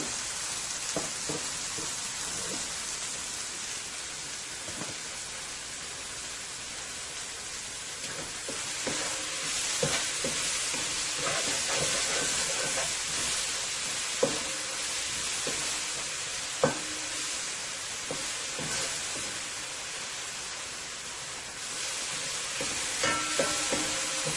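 Guyanese-style fish for fish and chips fries in hot oil with a loud, steady sizzle and crackle, broken now and then by sharp pops and the clatter of utensils.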